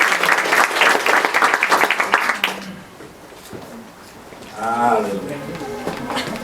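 A church audience at a sermon in South Korea claps for a pastor, the dense applause loud for about two and a half seconds before it fades and a voice begins talking.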